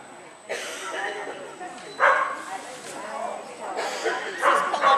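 Dogs yip and bark at a dog agility trial, a few sharp calls under a voice in an indoor arena.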